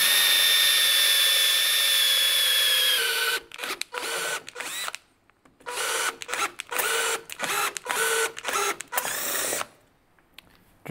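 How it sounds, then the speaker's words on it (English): A power drill works on the end cap of an aftermarket motorcycle fuel exhaust during repacking, first a steady high whine, then a run of short stuttering bursts as the bit catches and stops repeatedly, close and loud. "Drill's getting a little bit stuck there."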